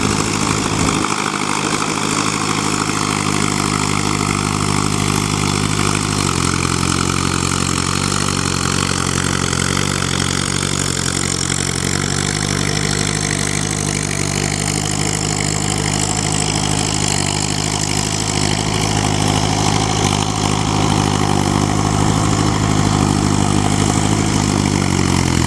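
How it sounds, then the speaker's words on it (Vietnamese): An old Kubota tractor engine idles steadily and close by, a continuous low throbbing drone with harmonic hum that holds even throughout, no voices over it. "Còn cái hơi Kubota thì nó hơi ấm hơn tí xíu,"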